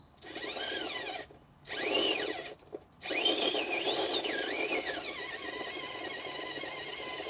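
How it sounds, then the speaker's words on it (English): An RC crawler rolls on Hobbypark Art Deco 2.2-inch tires, giving a faint whirring, whining hum from motor and tire lugs in short bursts, then one longer run, with no talk. "The lug noise is pronounced."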